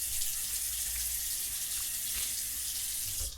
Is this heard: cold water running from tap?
yes